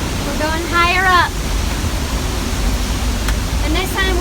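A large waterfall roars as a broad, constant rushing wash of noise. Voices speak over it in short bursts.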